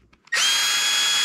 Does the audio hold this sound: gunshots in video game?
no